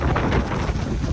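Strong wind gusting outdoors on a hill trip, a loud low rumbling buffet against the microphone, brief and continuous.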